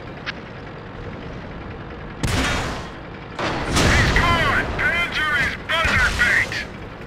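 Tank cannon fire in the World of Tanks game during a medium tank attack in a random battle: two loud, heavy booms with rumbling tails, followed by excited voices talking over the battle noise.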